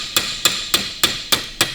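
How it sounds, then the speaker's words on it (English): Six sharp, evenly spaced hammer strikes ring out on a steel panel while a bead is formed during rust repairs on a classic Saab, each blow crisp and close with a short metallic ring. "Give that a hammer up."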